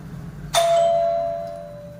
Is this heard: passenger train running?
no